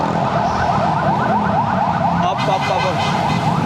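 An ambulance siren wails in repeating rising and falling sweeps through city traffic, loud and near amid road noise, heard from a bicycle, with a brief spoken word partway through.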